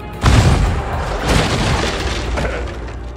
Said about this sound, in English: Oh, he knows how to name a cannon. Clear the hubs and fire!